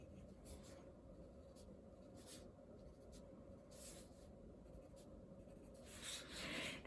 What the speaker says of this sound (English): I'm just going to draw that little oval